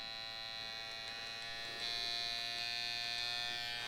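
A Yilong F8 wireless tattoo pen with a round liner runs with a steady, high-pitched electric buzz that gets slightly louder and brighter partway through as the voltage is raised, with no voices.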